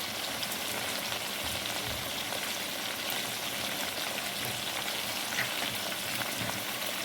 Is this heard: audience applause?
no